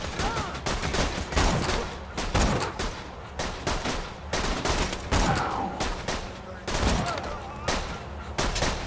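Rapid bursts of video game gunfire crackle through a firefight, dense volleys and single shots overlapping with brief pauses, loud and close throughout.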